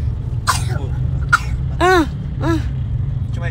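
A person coughs several times in short bursts, close by, over a low steady hum.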